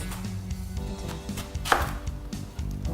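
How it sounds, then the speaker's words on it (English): A knife chops vegetables finely for a salad, a quick, even series of close, crisp taps on a cutting board, with one sharper knock partway through. "So we'll be chopping it, shredding it really as fine as possible to get a nice bite-sized salad."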